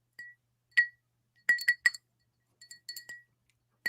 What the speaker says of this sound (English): you guys were loving the ASMR of my melting ice cubes in my cold brew cup here